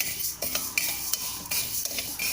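Continuous sizzling as dosa molagai podi ingredients fry while a utensil scrapes and stirs in a pan, steady and close, with brief clinks of metal.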